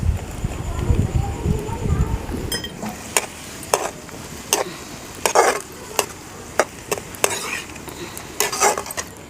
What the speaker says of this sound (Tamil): இப்போ இந்த மிளகாவை அதில் சேர்த்து வதக்கிடும்.